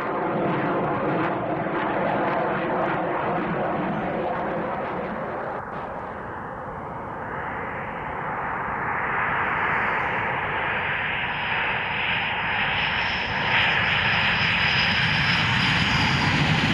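Czech Air Force fighter jets on a foggy airfield after landing produce a loud, continuous engine roar. The jet whine rises and shifts in pitch as the aircraft taxi toward the hangars.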